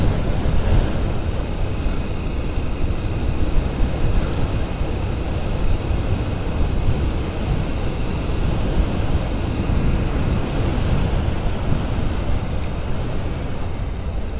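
Continuous wind rushes and buffets against the microphone, a steady cold roar with no voices, air streaming past a motorcycle rider on city streets.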